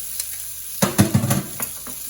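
Sardines and garlic fry in a pan with a quiet sizzle, broken by a few brief stirring scrapes and clinks near the middle.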